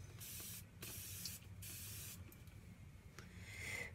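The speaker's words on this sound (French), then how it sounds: "Je vais humidifier mon pinceau. Donc, je vais l'humidifier avec de l'eau Monoprix, en fait, comme ça, en spray." A water spray bottle mists onto a makeup brush in several short, close bursts of hissing spray, about five pumps separated by brief quiet gaps, with no talking.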